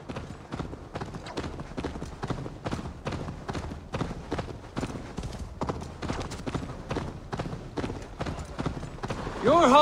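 Horse hooves gallop in a fast, steady clip-clop rhythm, close and loud, in the video game Assassin's Creed Valhalla, with a voice calling out near the end.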